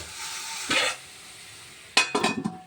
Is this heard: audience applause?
no